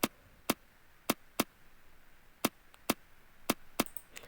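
Layered hi-hat and African drum samples play as sharp, isolated percussive hits with an uneven rhythm, about ten strikes, each short and crisp against a quiet background.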